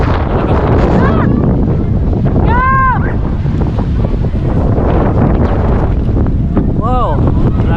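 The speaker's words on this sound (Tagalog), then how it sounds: "Malakas ang hangin." Strong gusty wind roars across a boat near Looc Beach in Bagac, Bataan, loud and constant with rumbling microphone buffeting, waves beneath, and brief voices cutting through the noise.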